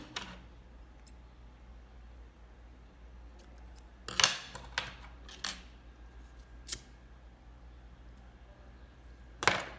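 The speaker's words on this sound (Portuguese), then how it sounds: "Vou cortar aqui o meu fio." Scissors snipping nautical crochet yarn, a few sharp metallic cuts close by in a quiet room, spaced out with pauses, the loudest coming in a cluster near the middle and one at the end.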